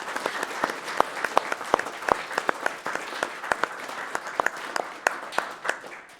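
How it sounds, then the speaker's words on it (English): An event audience applauds the prize donors at a charity speedrun marathon finale. Many hands clap in a moderate, fairly even burst with some sharp individual claps standing out. "So big round of applause for all the prize donors."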